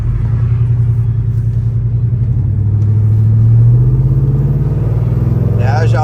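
A truck with a freshly serviced transmission drives along with a loud, steady engine rumble that rises and falls in pitch as it pulls through the gears, heard up close from inside the cab.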